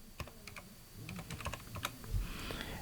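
Quiet typing on a computer keyboard, a quick run of soft key clicks at close range in a calm room.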